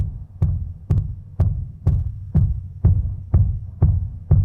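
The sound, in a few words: isolated sub kick drum track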